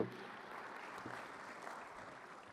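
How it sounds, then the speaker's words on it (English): Steady applause from a crowd at a festival opening ceremony fills the whole moment, even and sustained, heard at a moderate distance. "give them a round of applause"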